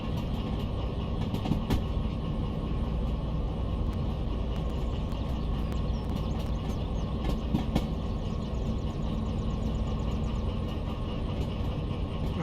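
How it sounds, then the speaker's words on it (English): A long freight train rolls steadily in the DV Sim railway video game, with a continuous loud rumble and intermittent clickety-clack of wheels over rail joints, no voices. "It's going to be a pretty long train."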